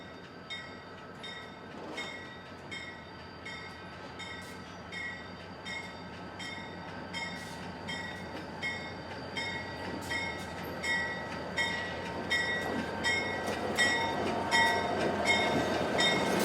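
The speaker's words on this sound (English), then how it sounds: "A GP-35 and F-7A provided ample power for the train." A freight train hauled by a GP-35 and an F-7A locomotive rumbles past steadily, with rhythmic wheel clatter over the rails and a constant high mechanical whine. It swells slowly in loudness and is heard alone, with no talk.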